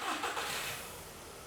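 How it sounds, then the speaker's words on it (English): A car engine cranks and catches with a loud broad roar, then settles into a steadier, slowly fading running hum; close and fairly loud, no talking. "Let's start the engine."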